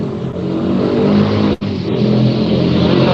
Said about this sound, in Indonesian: Berisik gitu tuh suara motor ya